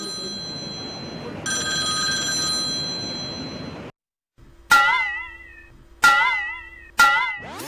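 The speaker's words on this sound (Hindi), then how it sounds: "सियासतदानों को मोबाइल फोन नमाज में भी तंग करने लगा" A mobile phone rings during midday prayer led by the imam of the Kaaba, a loud repeating electronic ringtone heard in three sharp bursts after a brief silence, following steady background noise.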